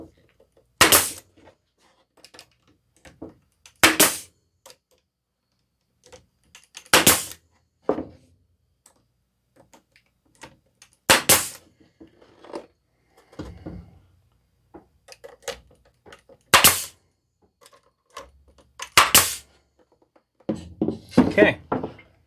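A pneumatic air nail gun firing into wood while building a farmhouse outhouse toilet paper holder, sharp isolated bangs spaced several seconds apart with quieter handling clunks between, ending in a quick cluster of shots.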